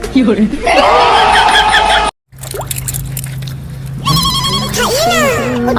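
A phone ringtone chimes in bursts of bright melodic tones, first alone near the start and again louder toward the end after a short silence, with people chatting and a steady low hum underneath.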